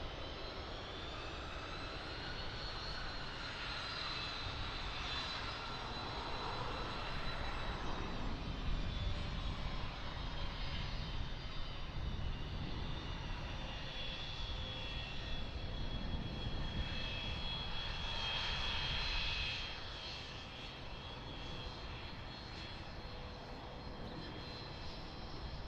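Airliner jet engines rumble and whine steadily at Lisbon Airport before takeoff, a broad continuous roar with a faint high whine that swells slightly midway, heard from a distance without voices.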